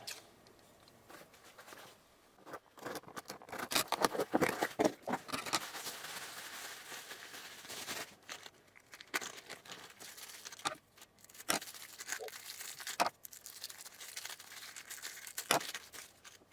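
Crinkly plastic packaging for a 2022 Year of the Tiger quarter-ounce gold lunar coin being torn open up close, with bursts of tearing and crumpling separated by quiet pauses.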